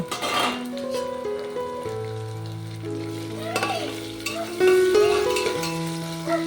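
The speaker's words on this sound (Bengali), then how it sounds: "টমেটোটাকেও ভালো করে বেশ কিছুক্ষণ ভেজে নিয়েছি।" Chopped tomatoes fry with onion, ginger and garlic in a pan for a Bengali fish biryani, a loud close sizzle broken by stirring scrapes and clinks of a utensil against the pan, with a low tonal hum underneath.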